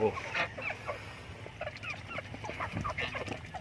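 Native chickens cluck and murmur nearby in a short, busy stretch of overlapping soft calls against low background noise.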